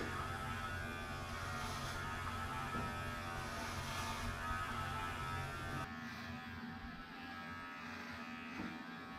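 A Ducati by Arzum electric hair clipper cuts hair at home, giving a steady, close buzzing drone that holds throughout with slight shifts in tone as it moves, with no talking.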